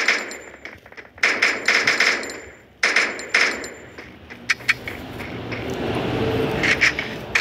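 Gunfire in the video game Free Fire: rapid bursts of automatic shots in two dense clusters, then scattered single cracks over a rising background rumble.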